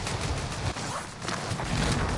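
Dense, continuous gunfire in Call of Duty Warzone, a sustained loud clatter of rapid shots with no clear gaps, filling the whole stretch.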